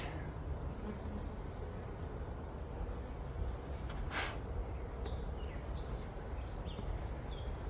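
Honeybees from a busy hive drone steadily throughout a hot hive inspection, a dense continuous buzz with no talking, with a brief sharper sound midway.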